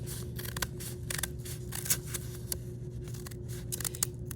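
Scissors cut basket-making material along a fold, giving a series of crisp, close snips over a steady low background hum.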